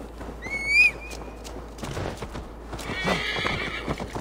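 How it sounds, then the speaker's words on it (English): A horse in Assassin's Creed Valhalla whinnies loudly, its call rising and falling, followed by a steady clatter of hooves, with game-like background sounds throughout. "Calm down, horse."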